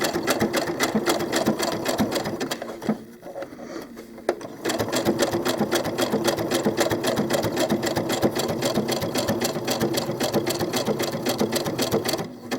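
A sewing machine stitching a seam on doll clothes, a fast steady mechanical clatter up close that pauses briefly partway through before resuming at a constant rhythm.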